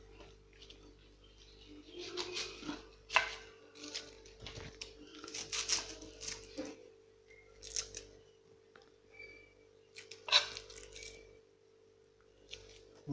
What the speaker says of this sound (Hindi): इतना सारा प्याज काट लिया